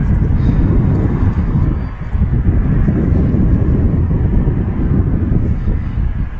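Embraer Legacy business jet rolling for takeoff at Manchester Airport, a heavy continuous low engine roar mixed with wind buffeting on the microphone, loud and sustained.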